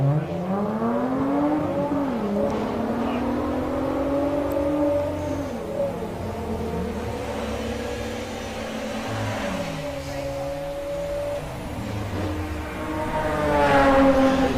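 A Volkswagen Scirocco makes a drag racing run at a VW drag racing event, its engine rising and falling through repeated gear changes in a loud, sustained roar with a surge of revs near the end.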